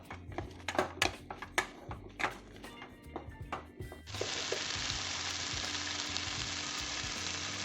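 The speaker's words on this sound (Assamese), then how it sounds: "চিকেনখিনি দিয়াৰ পাছত মই অলপ ভাজিব লাগিব।" Chicken pieces frying in a pan for butter chicken, scattered clatter and stirring knocks that then give way to a loud, steady sizzle as the chicken hits the hot oil.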